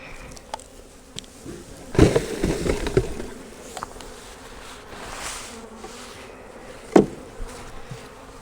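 Honey bees hum around an open hive frame, a soft, continuous buzzing close by, broken by a few sharp clunks and taps as the frame is handled.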